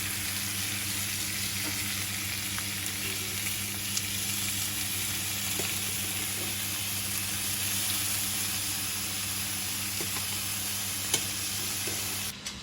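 Bacon frying in a pan gives a steady, even sizzle that runs continuously at moderate level, with faint kitchen clicks and no talk.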